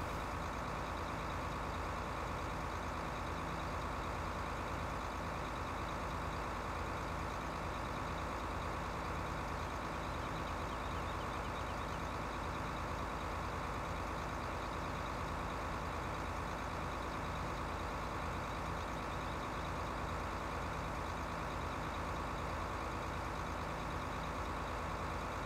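A tractor engine drones continuously at a steady, moderately loud level in the video game Farming Simulator 15, a constant mechanical hum with no pauses.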